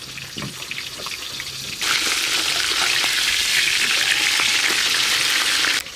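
Spice-marinated silver carp belly pieces fry in a pan and are flipped. A moderate sizzle jumps to a louder, hissing crackle after the turn and holds steady.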